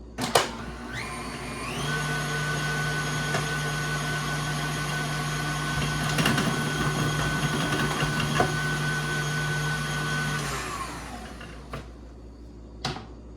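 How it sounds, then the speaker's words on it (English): A KitchenAid stand mixer with the slicer attachment, running at about speed 6, slices tomatillos with a loud, steady motor whine for about nine seconds. It starts and stops with faint clicks and has no talking over it. "when I was slicing the tomatillos, that like around a 6 on the KitchenAid worked really well"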